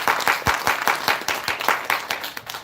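Audience at a business meeting giving a round of applause, dense rhythmic clapping from a roomful of people, fairly loud and close, sustained throughout.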